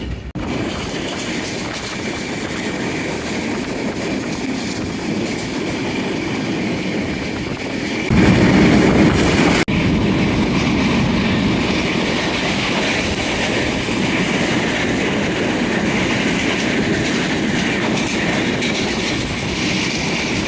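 The Drutajan Express runs through northern Bangladesh with a continuous loud rumble and rhythmic clickety-clack of wheels that swells louder partway through.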